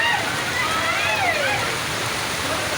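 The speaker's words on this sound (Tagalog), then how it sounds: "Ang daloy ng tubig." Steady rushing floodwater flows continuously along a street, a broad watery wash with faint splashing and no clear pauses throughout.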